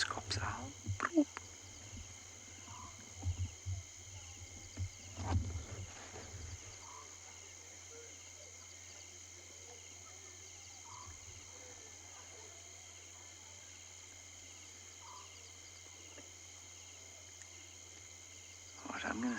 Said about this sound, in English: You can hear crickets. You can hear a scops owl.